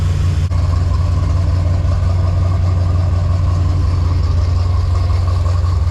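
A 1984 Chevy Silverado's 350 V8, swapped in for the original 305, idles with about 12 degrees of timing advance, giving a loud, close, steady low rumble that holds even throughout with no one talking.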